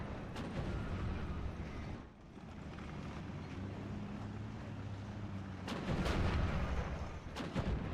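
Heavy .50 caliber machine gun fire in the World War II game Steel Division: Normandy 44, with a few sharp bursts and booming reports over a dense rumbling battle backdrop, with no talk.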